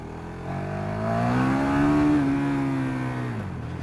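KTM 1290 Super Duke R, a 2017 model, accelerating hard, its engine note climbing loudly through the revs close by, then easing off near the end, with no voices.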